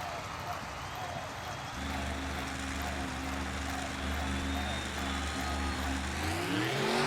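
Two racing trucks launch off the start line with engines revving up from idle and droning in steady rising tones as they pull away. The sound carries over background noise and is moderately loud.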